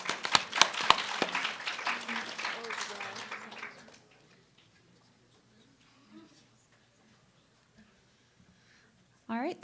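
Audience applause after a team's final presentation at a nanoscience lab summer institute: a dense burst of hand clapping for about four seconds that quickly thins out and fades into a quiet room with faint rustling.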